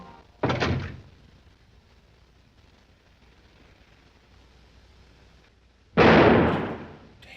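Two sharp gunshots from the 1944 film Double Indemnity, a single loud crack followed by several seconds of near quiet, then a second heavier blast that decays slowly.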